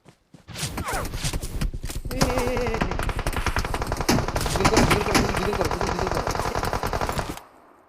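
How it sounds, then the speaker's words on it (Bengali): Rapid automatic gunfire from a SHANHOK shooting video game rattles almost without a break for about seven seconds. A voice speaks briefly at the start. "ওই ফায়ার দিছে"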